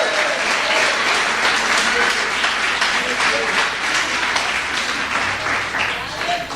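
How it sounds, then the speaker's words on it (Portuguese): A church congregation breaks into sustained, dense applause that fills the room and stays loud and steady throughout, with scattered voices and cheers of praise mixed into the clapping. "Posso ouvir uma salva de palmas e uma glória a Deus?"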